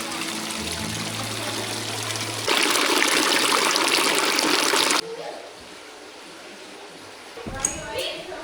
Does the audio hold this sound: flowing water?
yes